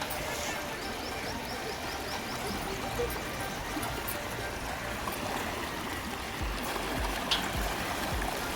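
Fast-flowing Ganges river water at Triveni Ghat rushes in a dense, steady roar close by, with a faint murmur of voices in the background.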